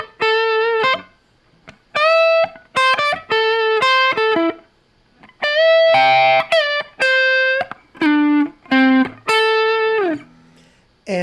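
Les Paul electric guitar played through a Torpedo CAB speaker simulator in place of an amplifier, edge-of-breakup tone: a string of sustained notes and chords in bursts with short gaps, loud and close, with no talking.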